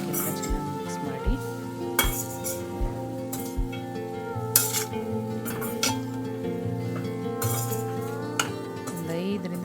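Chicken roast being stirred with tempering in a pan, giving repeated metallic clinks and scrapes of a utensil against the cookware at an irregular pace, close and fairly clear, with no talk.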